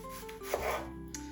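A knife cuts through leftover red onion on a board, a few close, soft chopping swipes with brief crisp bursts in a short stretch without talk.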